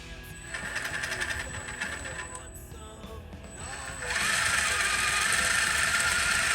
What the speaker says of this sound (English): we will do a little motor break in here